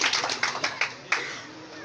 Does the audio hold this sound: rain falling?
no